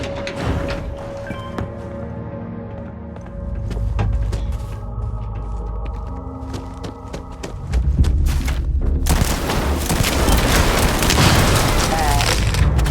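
Gunfire and booming blasts in the space-themed video game Starfield, a dense, loud barrage that grows heavier partway through and continues in rapid volleys, with game sounds layered throughout.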